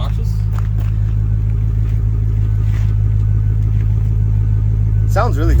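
A Chrysler 300C with a 5.7 Hemi V8 and a custom-fitted exhaust rumbles at idle, a deep steady throb close by, while people talk over it.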